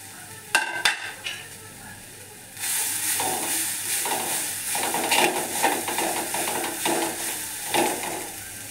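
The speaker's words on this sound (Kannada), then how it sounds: "ಇದಕ್ಕೆ ನಾನು 1/4 ಟೇಬಲ್ ಸ್ಪೂನಷ್ಟು ಅರಿಶಿನ ಪುಡಿನ ತೆಂಗಿನ ತುರಿಗೆ ಹಾಕಿಬಿಟ್ಟು ಫ್ರೈ ಮಾಡ್ತೀನಿ" Grated coconut with turmeric powder sizzles steadily in a pan, with a few clinks and stirring scrapes at the start before the frying hiss swells and continues with periodic stirring.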